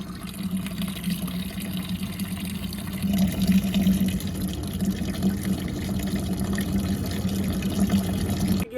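Water runs steadily from a tap into a container, a continuous close rushing and gurgling pour that grows slightly fuller partway through.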